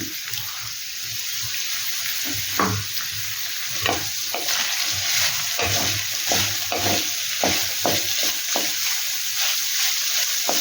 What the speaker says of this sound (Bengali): ক্যাপসিকাম দিয়ে, পেঁয়াজ কুচি দিয়ে আর চিকেন দিয়ে এবার একটু ভাজা ভাজা করি এটাকে।